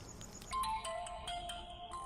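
A phone rings out after a call is placed in a Telugu film scene, heard as a short, faint electronic ringtone with repeating tonal pulses and no voices.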